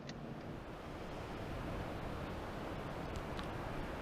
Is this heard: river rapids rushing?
yes